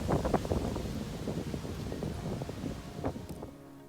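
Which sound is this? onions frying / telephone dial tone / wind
wind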